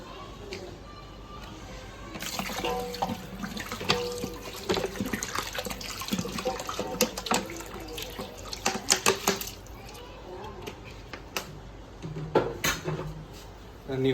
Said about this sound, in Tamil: இப்போ நம்ம தண்ணி மிக்ஸ் பண்ணிக்கலாம்